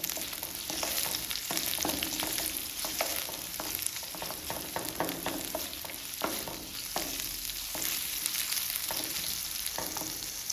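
Onions sizzle steadily in hot oil in a pan for a capsicum gravy cooked by a village family, with a continuous crackling hiss and faint scattered pops.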